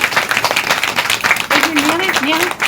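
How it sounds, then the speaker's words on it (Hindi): A crowd of parents claps in welcome at a school event, steady overlapping applause with a person talking over it partway through. "माता बहनों से आग्रह है कि वो तालियों से सभी का स्वागत करें।"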